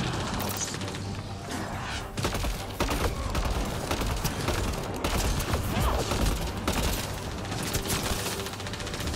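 A shooting turret fires sustained, dense automatic gunfire in the Mass Effect Andromeda video game, loud and continuous with clattering mechanical impacts throughout.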